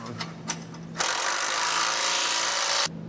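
A 3/4-inch socket and wrench snugging down base plate bolts on a 2015 GMC Canyon: a few quick ratchet clicks, then a steady buzzing power-tool run of about two seconds that stops abruptly, close and fairly loud.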